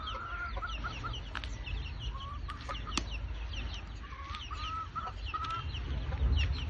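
Farmyard hens clucking repeatedly at close range, with short overlapping calls over steady outdoor background noise and no talk.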